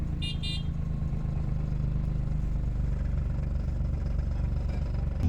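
A manual car's engine starts and then idles steadily, a low continuous rumble that runs through the whole stretch with a brief higher tone near the beginning and no talking.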